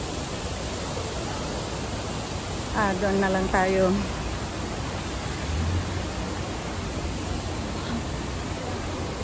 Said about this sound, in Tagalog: dinig pa rin natin yung lagas-gas ng tubig